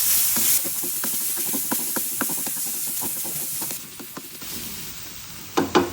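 Plenty of garlic sautés in a pan for low-carb homemade tomato sauce, with a hissing sizzle and a run of light, regular stirring taps, then a few louder knocks at the end.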